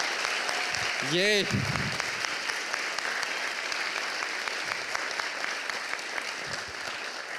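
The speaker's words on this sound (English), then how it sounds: "a big round of applause for everyone" A conference audience in an auditorium at PyCon Greece 2025 applauds at the closing remarks. Dense, sustained clapping fills the hall after a short cheer and voice near the start.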